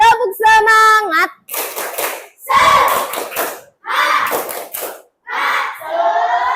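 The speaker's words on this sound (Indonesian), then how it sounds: "Tepuk semangat." Schoolchildren in an Indonesian classroom perform the 'tepuk semangat' spirit clap, a loud chanted routine of rhythmic clapping and shouting in several bursts, voices high and energetic close by.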